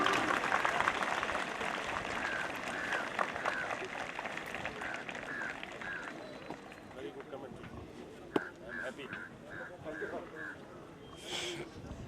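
Crowd applause rolls on through the outdoor passing out parade of a police battalion in Aligarh, moderately loud and steady and gradually fading, with a voice speaking over it and a few faint tonal chirps mixed in.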